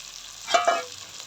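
Chopped onion and tomato frying together in a pan for prawn pulao, a brief soft sizzle with two quick stirring scrapes close by.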